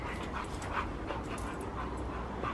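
Dog whimpering and panting indoors, a continuous run of quick breathy pants broken by soft high whines, close and steady with no talk.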